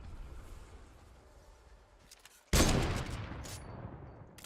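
Gunfire in the battle royale game Fortnite coming from a tower, with a sudden loud burst of shots that then tails off, following a quieter stretch.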